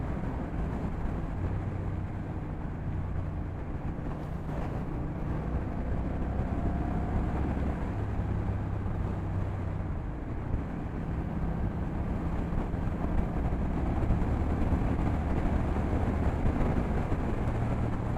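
A 2024 Honda Rebel 1100 motorcycle cruising in sixth gear, its engine a steady, smooth low rumble blended with constant road and wind noise throughout, close and fairly loud with no speech.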